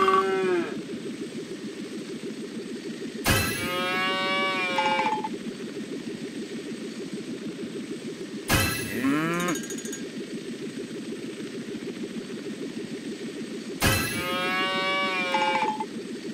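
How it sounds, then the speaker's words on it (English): Cows moo in the Paw Patrol Rescue World video game, three separate loud lowing calls spaced evenly apart over a steady background game tune. "There's a cow! You found one!"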